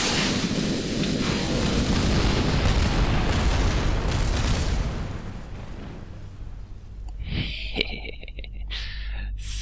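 Rumbling, booming explosions from the space flight game Kerbal Space Program, a loud sustained roar for several seconds that thins out into scattered crackles and clanks.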